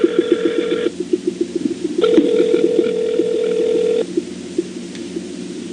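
Telephone call being placed to reach Jennifer: steady dial and ringback tones sound in long segments over a faint rhythmic ticking, clear and close, with no one speaking.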